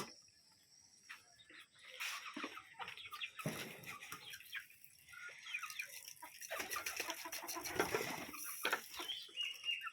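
Chickens being fed rice alongside pigeons and ducks cluck softly in the distance, with wing flaps and scattered rustling, faint and intermittent.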